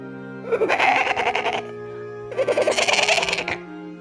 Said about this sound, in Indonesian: membeli 2 ekor kambing jantan dan kambing betina